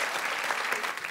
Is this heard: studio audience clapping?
yes